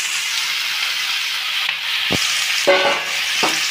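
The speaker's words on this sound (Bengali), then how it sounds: "এবার এই সবজিগুলো এর ওপর আমি ঢেলে দিলাম" Fried vegetables poured into a pan over fried ginger, giving a continuous hiss of hot oil sizzling, with brief scraping and stirring knocks near the end.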